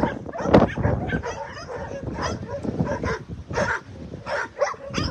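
Several shelter dogs bark, yip and whimper excitedly at sundown, close by in quick irregular bursts, with a person's voice mixed in.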